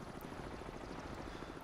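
An enemy helicopter hovers over a Cold War-era submarine in the Cold Waters naval video game, dropping depth charges, heard as a faint, steady rotor drone with a fast, even chop.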